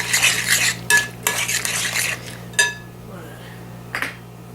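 A utensil stirs chopped onion and green peppers in a pan, producing loud bursts of metallic scraping and clinking separated by short pauses over a low steady hum, close up.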